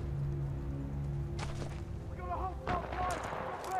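Gunfire in the video game Titanfall 2 during single-player play, heard as a brief cluster of sharp shots and impacts midway, followed by a louder burst of weapon fire and zipping effects over steady game background noise.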